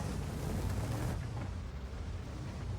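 Booming tank cannon fire in a World of Tanks–style battle game, a loud continuous low rumble of shots and impacts that stays dense and heavy throughout with no voices.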